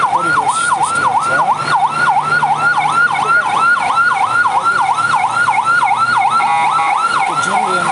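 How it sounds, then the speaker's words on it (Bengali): Ambulance siren on a flooded, rain-hit Dhaka–Gazipur highway, a loud close wailing siren cycling steadily throughout over faint road noise. "একটু জরুরি অ্যাম্বুলেন্স যাচ্ছে,"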